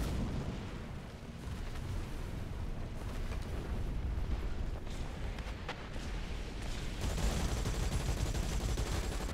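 Tank battle in War Thunder with a T-64B, heavy cannon and gunfire booms rolling through a steady, dense wash of distant combat noise, with a louder stretch near the end.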